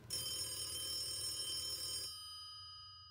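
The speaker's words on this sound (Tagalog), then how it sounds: "ang pag-ring ng telepono nung madaling araw" A telephone bell rings in a radio drama, a bright metallic trill sounding steadily for about two seconds before cutting off and leaving a faint fading ring.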